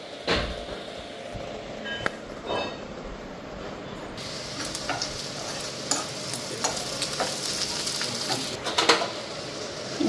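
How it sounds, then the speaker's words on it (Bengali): Egg frying in a pan with a steady, close crackling sizzle and occasional stirring scrapes and clinks, brighter bursts of spitting oil scattered throughout, no voices. "তো এদিকে ডিম ভাজা হয়ে গেছে"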